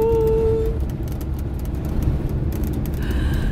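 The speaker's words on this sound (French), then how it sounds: "il y a une voiture qui est en train de doubler un camion pas très loin de nous" On a road in Portugal, heard from inside a moving vehicle, a car overtakes a truck nearby, giving a steady low traffic rumble with a passing tonal whine and engine drone.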